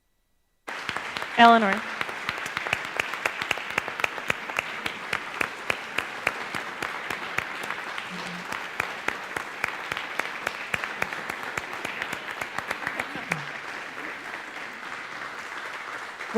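A church congregation applauds with steady, sustained clapping that carries on for many seconds, with a voice speaking briefly over it near the start.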